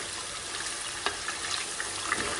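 Homemade potato chips fry in hot oil at home, giving a steady dense sizzle and bubbling hiss with small pops scattered through it, close and fairly loud with no talking.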